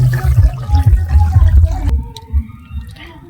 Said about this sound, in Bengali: এই তরকারিটা এবার বাটিতে ঢেলে নেব